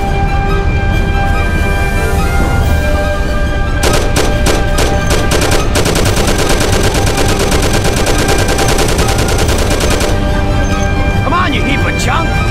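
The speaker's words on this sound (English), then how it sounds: "Thompson, you and Sam shoot them." Thompson submachine gun fire in the Mafia video game, a loud sustained burst of rapid automatic shots lasting several seconds amid a noisy engine-like background, with brief talk nearby.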